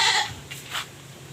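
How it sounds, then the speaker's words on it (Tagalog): Goats bleat noisily on a farm, a loud close cry at the start followed by a second shorter bleat, with quiet pauses between. "ingay-ingay nitong kambing na to"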